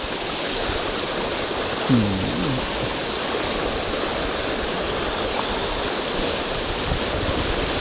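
Strong water rushes through the stream headwaters of the Muak Lek reservoir, a steady, loud broadband roar that continues without break.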